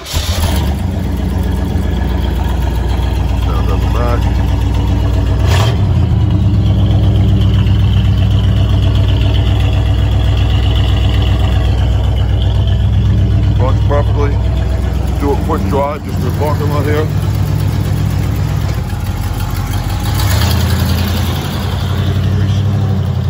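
A 1979 Pontiac Trans Am Bandit engine idles steadily and loudly throughout, a constant low rumble with voices talking intermittently over it.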